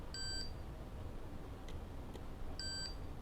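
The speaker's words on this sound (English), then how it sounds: "It's just giving me a beep" A multimeter in continuity mode gives two short, high electronic beeps a couple of seconds apart while testing CNC wiring, thin and clear over a faint background hiss.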